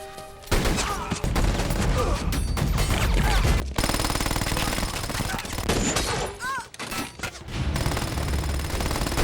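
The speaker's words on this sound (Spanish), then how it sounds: "Se forma el alboroto con disparos por todas partes" Rapid bursts of gunfire from the film Aeon Flux crackle almost nonstop, with brief pauses and distant voices shouting underneath the loud, chaotic shooting.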